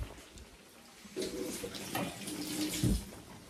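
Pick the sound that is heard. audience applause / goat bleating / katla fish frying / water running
water running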